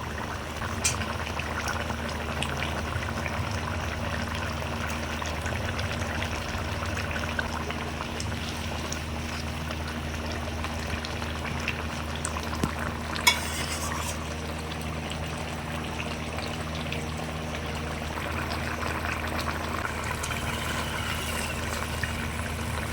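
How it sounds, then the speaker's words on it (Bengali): Fried fish pieces are added to a Bengali fish curry boiling steadily in a pan, a continuous close bubbling with occasional splashes and one brief louder clatter midway, with no voices. "এবার আমি মাছ ভাজাগুলো দিয়ে দেবো"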